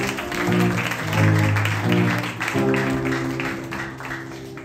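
A church congregation claps loudly and steadily for several seconds, with a sustained musical drone underneath.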